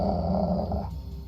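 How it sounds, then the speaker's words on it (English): A beast growls out of the darkness in the game Cupid Parasite, a low, steady, dog-like snarl that is close and alone, then fades off after about a second. "we heard a growl of a beast from the darkness"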